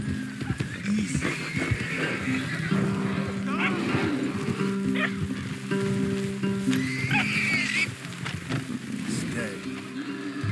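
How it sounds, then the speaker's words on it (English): Horses neigh and whinny in the Red Dead Redemption 2 video game, with several sharp, high calls over a steady game soundscape, plus faint hoof clip-clops in the background. "Leave the horses in the trees there."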